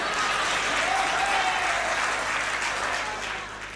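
An audience at a Hindi comic poetry recital applauds, a dense burst of clapping that swells and then gradually tapers off toward the end.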